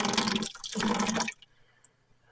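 Water runs and splashes from the drain valve of a 1944 John Deere BW tractor into a bucket in two brief gushes, then stops, leaving quiet with one faint drop near the end.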